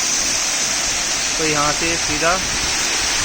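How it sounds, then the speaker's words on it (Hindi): A waterfall in the Himachal hills pours from the mountain straight onto a road, giving a steady, loud rushing hiss throughout while someone briefly speaks over it. "बहुत ब्यूटीफुल सा वाटरफॉल जो ऊपर से पहाड़ से गिर रहा है सीधा रोड पे"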